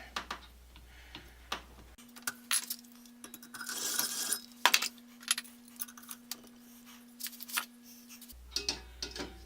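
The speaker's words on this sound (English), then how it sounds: "And I slip the riveting pliers over and just pull it." A pop rivet is pulled with hand riveting pliers, giving several sharp metallic clicks and snaps in close succession with a brief scraping burst in the middle, nearby and moderately loud, with no talk.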